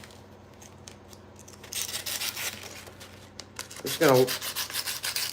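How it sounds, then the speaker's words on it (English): Sandpaper rubs back and forth over a wooden tip in close, scratchy strokes that grow louder midway, with a brief squeak and a few quiet spoken words. "rub in the tip with the sandpaper side. Try to clean that back up"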